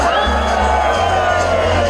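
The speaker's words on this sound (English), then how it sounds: "Group E, give me a cheer!" A crowd of runners at a Two Oceans race start, whooping and cheering together in one loud, sustained burst that carries on throughout.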